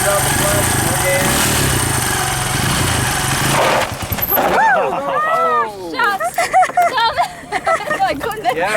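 An ATV engine runs loud and rough for the first few seconds, surging as the throttle is worked and the clutch eased out, then drops away as excited voices and a high-pitched exclamation take over.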